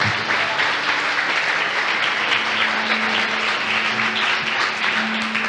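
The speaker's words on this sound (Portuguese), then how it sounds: "Você pode aplaudir esse Jesus?" Loud, sustained applause from a church congregation during a Portuguese-language sermon, many hands clapping in a thick continuous roar with murmuring voices beneath.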